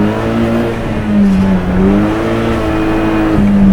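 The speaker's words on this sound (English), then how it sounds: "Lots of wheel spin." A 2.0 TFSI swapped Peugeot 306 GTI on the Nürburgring, its engine droning loudly from inside the cabin with pitch rising and dipping as the tyres spin, a steady continuous roar throughout.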